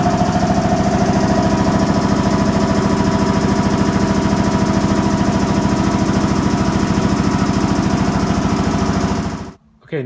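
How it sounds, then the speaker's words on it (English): A Scott Hush air compressor runs steadily and loudly as it builds pressure, a continuous mechanical drone with rapid pulsing that cuts off abruptly near the end before a brief restart of sound. "once you are ready to start the compressor, we went through all the checks and through the menu, and now we're going to hit start"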